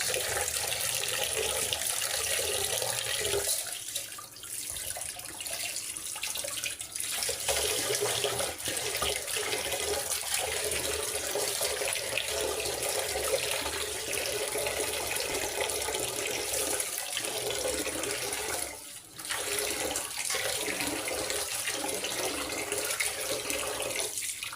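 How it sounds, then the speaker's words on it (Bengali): Rice and lentils washed together under a running tap, a steady stream of water splashing into a sink with faint stirring and sloshing, continuous and fairly quiet. "প্রথমে আমি চাউলগুলো ভালো করে ধুয়ে নিলাম"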